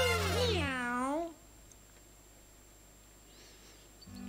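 A cartoonish cat meow with a rising and falling pitch rings out in the Super Mario Maker 2 video game, sounding clearly at the start before fading into a quiet background.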